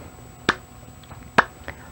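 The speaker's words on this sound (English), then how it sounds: "So let's clap." Two sharp, isolated claps sound close by in a quiet room, almost a second apart, with a fainter third tap trailing after, marking beats during a finger cymbal rhythm lesson.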